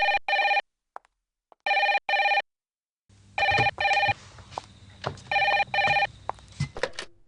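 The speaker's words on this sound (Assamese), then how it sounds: "আৰে ফোনটো বাজি আছে শুনা নাই" Telephone ringing in repeated two-burst electronic trills, clear at first in near silence, then continuing under background noise with faint voices.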